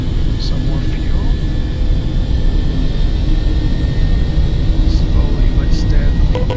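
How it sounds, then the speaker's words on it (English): In a flight simulator, the turbine of an Airbus HH-65C helicopter spools up with a steady, loud whine and roar, continuous under a voice. "above 40 RPM, we can release the starter and inject"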